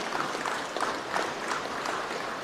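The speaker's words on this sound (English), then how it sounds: "A round of applause." Audience applause after a youth string orchestra's performance at a Pacific youth awards ceremony, a steady, moderately distant wash of many hands clapping with no voices over it.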